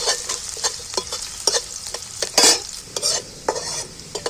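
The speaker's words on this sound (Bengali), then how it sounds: "কুচিগুলো তেলের মধ্যে ভালো করে নাড়াচাড়া করে ভেজে নেব" Chopped garlic and gram flour stirred in hot oil, with a steady sizzle under repeated sharp scrapes of a spatula against the pan, close and fairly loud, no voices.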